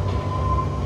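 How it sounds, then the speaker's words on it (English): Interior of the 15E tram crossing Lisbon, a loud steady low rumble of the rolling car with a faint sustained tonal whine above it and no talk. "Right now we're on the 15E tram all the way across Lisbon"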